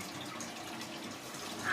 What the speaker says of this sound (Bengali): কলটা বন্ধ করো, কলটা অফ করে নাও।